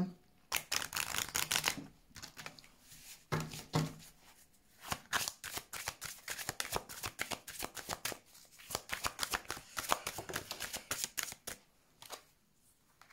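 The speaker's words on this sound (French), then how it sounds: "On va aller quand même chercher 2-3 cartes, hein, d'accord, pour avoir un petit message." Tarot cards shuffled by hand in a series of dense, crisp riffling bursts with short pauses, followed by softer flicks and taps as individual cards are drawn and laid down, close and fairly quiet, with no talk.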